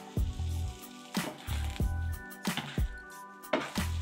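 Frozen shrimp stirred in a hot pan, giving repeated scraping, squishing sizzles in several bursts, close and moderately loud with no talk.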